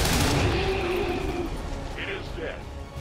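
Gunfire from a soldier's weapon in the XCOM 2 video game, a dense burst of loud shots at the start that thins into a rumbling tail, with a few softer effects near the end.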